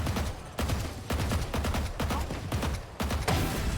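Rapid bursts of gunfire from the shooter game ISO crackle in dense, loud volleys, separated by brief pauses, filling the whole stretch.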